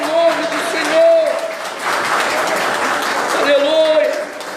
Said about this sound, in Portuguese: Aplauda bem forte o nome do Senhor.